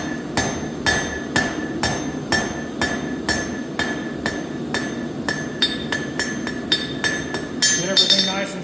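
A hammer beats a taper onto a twisted steel blank for a square S hook, striking in a steady, ringing rhythm of about two blows per second at close range, with a metallic clink on each hit.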